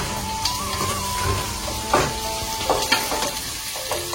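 Spices frying in a pan for a fish curry give a close, steady sizzle, broken by a few sharp scraping stirs and utensil clinks.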